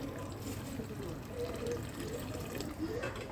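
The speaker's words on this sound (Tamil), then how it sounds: "தேவையான அளவு தண்ணி போட்டுக்கிட்டு" Water runs steadily into a cooking pot for chicken biryani with a continuous splashing rush, close by, while a voice talks faintly underneath.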